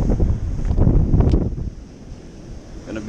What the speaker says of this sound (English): Sorry, it's a little windy.